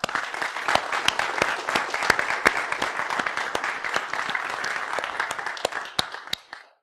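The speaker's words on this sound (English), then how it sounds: "can we give a round of applause for everybody that put NolaCon on?" A conference audience at a security event in New Orleans gives a sustained round of applause, dense clapping at steady volume with a few sharp individual claps standing out, fading off near the end.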